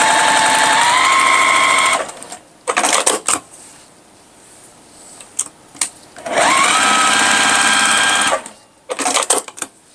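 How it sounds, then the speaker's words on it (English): A sewing machine stitching quilt block pieces for a starry pumpkin block, running in two long, loud, even whirring bursts with short clicks and handling sounds between them. "take these to my sewing machine"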